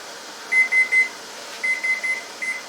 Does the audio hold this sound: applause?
no